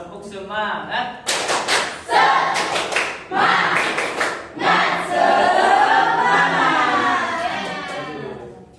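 Students in a microteaching classroom do a rhythmic spirit clap, tepuk semangat: bursts of patterned clapping and slaps in quick groups, mixed with a teacher's and children's voices.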